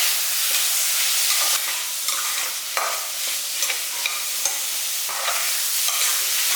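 Grated coconut sautéing in a pan, a steady dry sizzle broken by repeated scraping strokes of a spoon stirring it, close and fairly loud with no talk.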